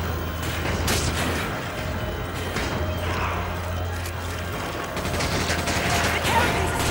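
Gunfire in the Resident Evil 5 video game, dense repeated shots and mechanical clatter over a continuous game soundscape, with voices talking underneath.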